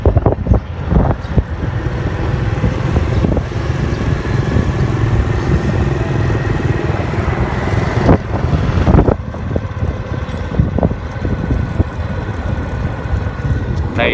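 A motorbike rides along a new road in the reclaimed seaside district of Ha Tien, its steady engine drone and road rumble mixed with wind buffeting the microphone, continuous and close.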